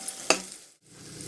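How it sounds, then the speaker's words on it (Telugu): Green peas sizzle softly in a frying pan, with a brief louder scrape of stirring early on, a short drop to near silence, then the faint steady frying returns; no one speaks. "చూడండి ఇంత మంచిగా ఫ్రై అవుతున్నాయి ఇవి"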